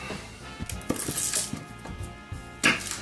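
A knife cuts the ends off garlic cloves on a board in a kitchen, a few scattered sharp taps and clicks of the blade with faint clinks, fairly close and quiet.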